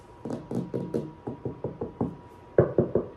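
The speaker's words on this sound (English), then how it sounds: "See, okay, there is a difference in a knocking noise." Knuckles knock on drying joint compound with about a dozen close, hollow raps in an uneven rhythm, the last few noticeably louder.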